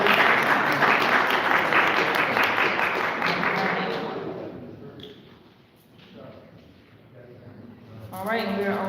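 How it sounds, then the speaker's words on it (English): Audience applause at a candidate forum for county council fills the room loudly for about four seconds, then thins and fades, with a brief swell of clapping near the end. "Let's give him another round of applause."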